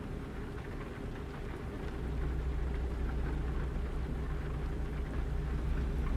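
Steady rain hisses and patters around a truck cab while driving in a truck simulator, a broad constant wash with a low engine drone beneath that grows slightly louder partway through.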